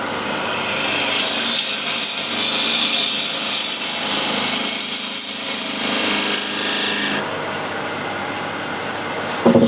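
A woodturning lathe spins at 1500 RPM with a loud, steady high hiss and whir of the workpiece, holding even for most of the stretch before dropping to a quieter hum near the end.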